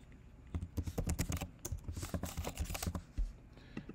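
Fingers tap quickly on a computer keyboard, a close run of crisp clicks in uneven bursts with short pauses.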